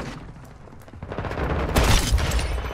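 Desert Eagle .50 fire in a shooter video game sounds as a short, muffled burst of gunshots, rising to a heavier blast in the second half, with no talking.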